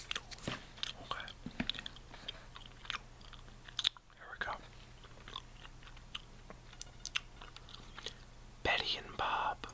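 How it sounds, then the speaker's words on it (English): Gum chewing right at the microphone in a close whispered ASMR setting: soft wet smacks and occasional crunchy bites recur irregularly, with brief whispered speech and a louder rustle near the end. "I'm gonna chew some gum."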